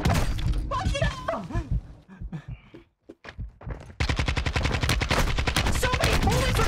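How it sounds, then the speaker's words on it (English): Rapid gunfire rattles in a video game, with a voice talking and scattered shots early on, then a loud, dense burst of fast repeated shots that continues to the end. "So many bullets are being shot before it finally hits you!"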